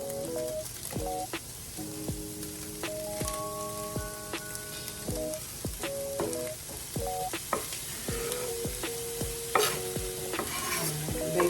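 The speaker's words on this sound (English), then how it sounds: "So I'm just gonna let this kind of saute in there." Chopped vegetables and onions sauteing in a hot pan for New Orleans dirty rice, a steady close sizzle with repeated metallic clinks and scrapes of stirring, no talking.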